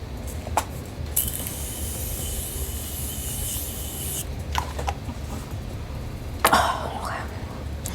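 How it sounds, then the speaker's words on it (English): Morphe makeup setting spray misted onto a face: a few short hissing bursts, including one sustained spray lasting about three seconds, close to the microphone in a quiet room. "I'm gonna set her with the Morphe setting spray."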